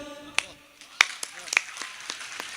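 Sparse, scattered hand claps from the audience at Hariom Pawar's Hindi poetry recital in Shahjahanpur, a handful of sharp claps spread unevenly over a low murmur of voices.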